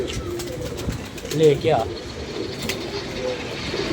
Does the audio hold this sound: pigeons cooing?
yes